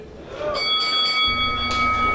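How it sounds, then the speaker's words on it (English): A pro wrestling ring bell at a BeachSLAM event in Santa Cruz rings in short bright repeated strikes with sustained ringing tones, heard over crowd and arena noise. "That was the bell."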